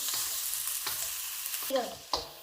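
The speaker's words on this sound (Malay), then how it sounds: "tumis dan tumis sehingga bawang ni kelihatan keperangan dan baunya wangi" Onions sautéing in a pan for a carbonara puff filling, a steady broad sizzle with a few scraping stirs and spatula knocks near the end, no talking.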